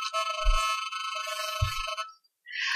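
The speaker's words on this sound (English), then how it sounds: "It's a cell phone?" A cell phone ringtone plays during a town board of finance meeting, a sustained tonal ring repeating with brief pauses, accompanied by low thumps of handling noise.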